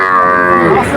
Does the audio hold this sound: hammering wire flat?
no